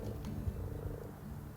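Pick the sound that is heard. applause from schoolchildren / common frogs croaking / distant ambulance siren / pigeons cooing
common frogs croaking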